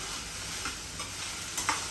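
Food sautéing in a home kitchen pan, with a brief steady sizzle and a couple of soft stirring scrapes.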